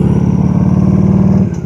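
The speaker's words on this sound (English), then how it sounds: "1340cc V-twin, 5-speed Evolution engine." A 1993 Harley-Davidson Ultra Classic Electra Glide with sidecar and 1340cc V-twin Evolution engine riding, its loud, close, steady lumpy throb holding for a moment before easing off.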